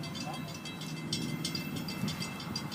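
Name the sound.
LORAM rail grinder FEC 403 moving on the tracks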